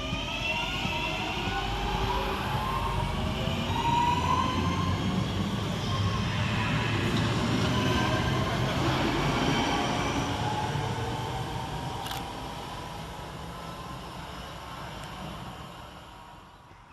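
Class 323 electric multiple unit on a Northern Rail Crewe to Manchester Piccadilly service at Goostrey station, a steady loud rumble and whine of the train passing close by that gradually fades toward the end.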